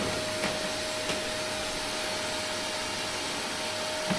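A vacuum cleaner running during grain dryer cleaning, a steady broadband hiss and hum with a faint constant whine, unchanging for the whole stretch with no voices.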